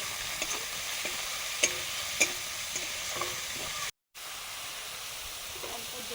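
Spice paste of turmeric and chili sizzles softly in a pan after a splash of water, giving a steady low hiss with a few stirring clinks and a brief dropout.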